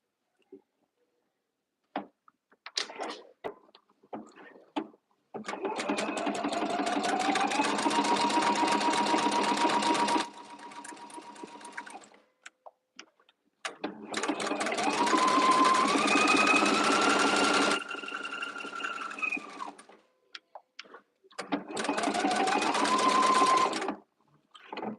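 Sewing machine stitching a line: three long stretches of steady, fast mechanical whirring with a rising motor tone, separated by short quiet pauses and a few light clicks, with no talking.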